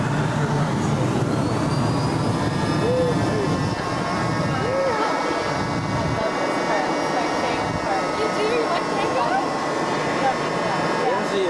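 Inside an airplane in flight, a loud, steady engine and cabin roar runs throughout, with faint voices talking beneath it.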